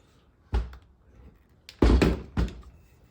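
Ryobi power nailer fired in non-contact mode, giving three sharp, close thumps: a single shot, then two more in quick succession about half a second apart, with quiet between.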